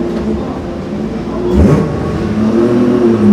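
A Mazda RX-7 FD sports car approaching and passing at a highway parking area, its engine note rising and swelling into a loud whir, with steady road and crowd noise around it.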